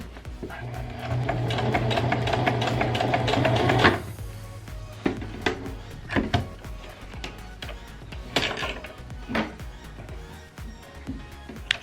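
A sewing machine runs steadily for a few seconds while stitching a pinned, hemmed edge of a fabric dog bandana, then stops, followed by scattered handling clicks and taps nearby.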